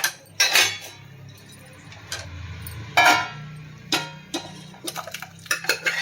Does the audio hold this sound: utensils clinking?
yes